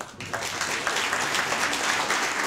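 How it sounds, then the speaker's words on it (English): An audience at a live keynote presentation event applauds a speaker, starting with a brief quiet moment and then a dense, sustained wash of clapping that holds steady. "So a big round of applause for"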